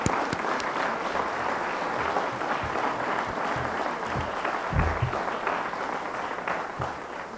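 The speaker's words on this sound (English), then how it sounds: "Please give a round of applause to our awardees for this evening." Audience applause for awardees at a 1999 Martin Luther King program, sustained dense clapping from a crowd throughout, steady and moderately loud with no break.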